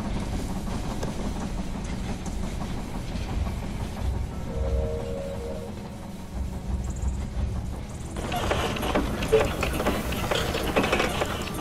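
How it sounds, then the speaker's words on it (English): A train rolls into a station in the strategy game They Are Billions, a steady rumbling clatter of rail cars with a brief tonal squeal, growing louder toward the end. "The train has arrived at the station."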